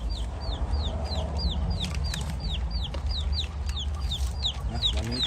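Chickens cluck repeatedly in quick, rhythmic bursts close by, over a constant background hum and noise as the birds peck at numbers.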